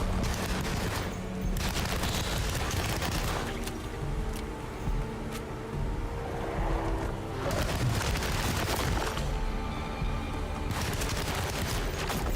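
Gunfire in the 2024 horror game Alone in the Dark as shots are fired at eyeball creatures: loud bursts of shooting in clusters separated by rumbling, noisy stretches of combat ambience.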